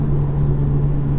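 Mercedes CLA 45 AMG engine accelerating hard on a road drive, a loud, steady droning exhaust roar with a strong low hum throughout, close and continuous with no voices.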